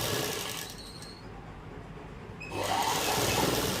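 A sewing machine runs in steady whirring bursts while stitching a folded strip along the lace edge of a kurti, loud at the start, pausing briefly in the middle, then resuming.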